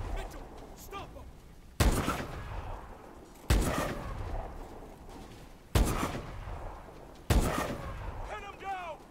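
Heavy, booming gunshots ring out in Call of Duty: Advanced Warfare, five loud, evenly spaced blasts each trailing off into a long echoing decay, with shouted voices faintly underneath.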